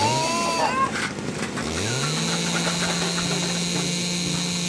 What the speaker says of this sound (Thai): สัตว์ต่างๆในฟาร์มตื่นขึ้นมาเพราะเสียงที่เหมือนเครื่องยนต์ดังออกมาจากป่า